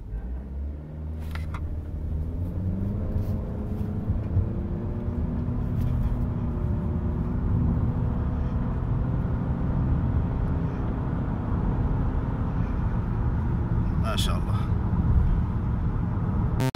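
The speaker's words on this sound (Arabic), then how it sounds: "الان تسارع من صفر ل 100 على وضعية الاس نشوف رشاقة السيارة مع التيربو" A 2018 Honda Accord with a turbocharged engine and CVT gearbox accelerates hard from a standstill in S mode, a steady loud engine drone and rising rumble filling the cabin throughout, with no talk.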